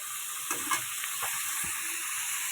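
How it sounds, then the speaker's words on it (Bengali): Prawns frying in a pan give a steady, bright sizzle with a few soft stirring scrapes and small pops over about two seconds. "এই যে সুন্দরভাবে ভাজতে হবে চিংড়ি মাছগুলো"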